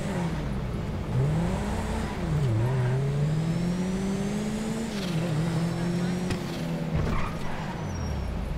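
A car in GTA 5 Online accelerates hard toward a handbrake spin, its engine note climbing and dipping through gear changes in a loud continuous drone while a voice talks over it.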